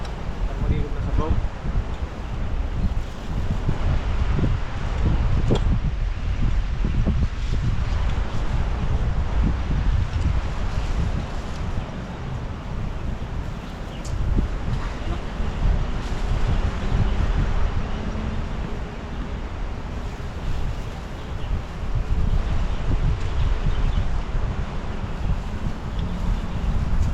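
Steady wind buffeting the microphone outdoors, a continuous low rumble that swells and eases, with voices faintly underneath.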